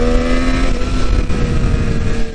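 A 2019 Triumph Street Triple RS motorcycle accelerates hard, its engine note loud, close and steadily climbing as it pulls through the revs, with no talk over it.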